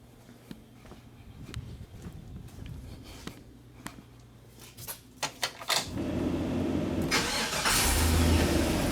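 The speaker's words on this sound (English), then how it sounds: "Let's go inside the vehicle and start the engine." A Chevrolet Express van's engine cranks and catches after several quiet clicks and knocks, then settles into a steady, close idle rumble that swells slightly.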